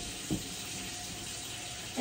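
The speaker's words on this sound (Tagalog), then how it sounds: "So, ang gagawin ko is maglagay lang ako ng tubig dito sa bucket." Water pours steadily from a tap into a bucket during household cleaning, a constant hissing rush with a small splash near the start, moderately quiet and without talk.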